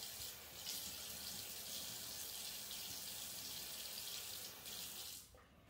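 Water runs steadily from a tap into a sink as a face is splashed during a skincare routine, a close, continuous hiss that cuts off near the end.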